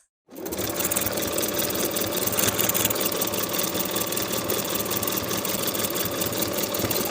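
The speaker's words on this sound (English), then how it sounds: "I'll sew the neckband in place with a 3/8 inch seam allowance" A sewing machine starts up and runs continuously, stitching a fleece neckband onto winter pajamas at a 3/8 inch seam allowance, its loud, close, rapid mechanical chatter steady to the end.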